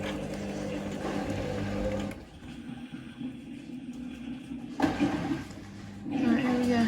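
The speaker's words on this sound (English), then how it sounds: "I love the sound of the water going down the sink." Water drains noisily down a sink with a steady gurgling rush that fades partway through and then surges back, close by, along with some faint background hum.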